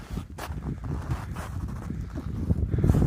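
Gusty wind with blowing snow buffets the microphone high on Denali's West Buttress in uneven, rumbling surges, loud and close, with a few faint rustles and no speech.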